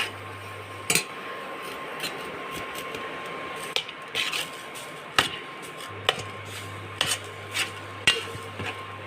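Spoon stirring thick fish curry masala in a pot, repeated sharp scraping knocks against the vessel at an uneven rhythm, close and clear over a low steady hum.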